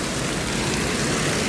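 Steady rain during a typhoon, a dense unbroken hiss of falling water that fills the whole moment at even loudness, with no voices heard.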